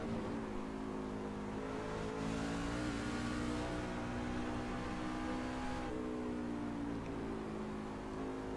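A race truck engine pulling out of a corner and down a straightaway, a sustained loud in-cabin roar with rising pitch and a short lift midway before climbing again.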